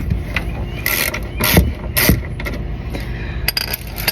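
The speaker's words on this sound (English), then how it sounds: "you will use the T30 to get all of the bolts off" A ratchet fitted with a T30 bit backs out splash shield bolts on a 2016 Ford Focus SE, making loud, close bursts of rapid clicking that start and stop in short runs.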